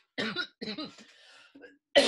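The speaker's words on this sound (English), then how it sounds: "I start coughing right as you start talking" Two bursts of nearby coughing with a brief gap, a short throaty sound, then a sharp, loud noise right at the end.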